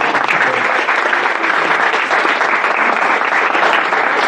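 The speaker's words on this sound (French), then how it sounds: "On peut encore les applaudir et vous entendre." An audience applauds students after a school performance, a dense, loud and steady clapping that fills the room without pause.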